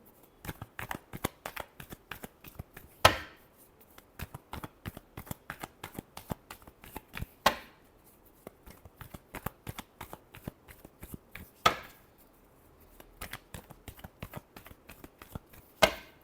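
Tarot cards shuffled by hand in a steady run of rapid riffling flicks, broken by three louder sharp bridge-like cascades, close and alone with no voices.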